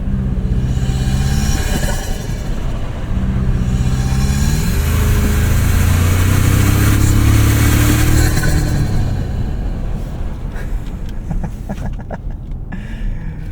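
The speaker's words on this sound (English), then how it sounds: "This intake sounds awesome, even at light half throttle." Intake and engine of a 2024 Toyota Tacoma Trailhunter under half throttle, a loud rising drone heard from inside the cabin as the truck accelerates through the gears, then easing off.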